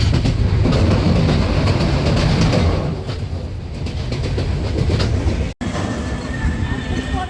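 A train on the Dhaka to Kushtia route rolls along loudly and close, with continuous rumbling and rhythmic wheel clatter, a brief dropout partway through, then steady running again.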